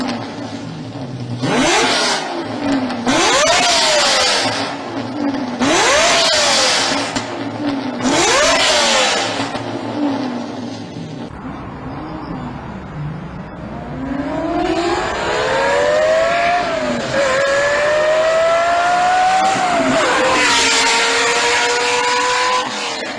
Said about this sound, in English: It is a Lamborghini.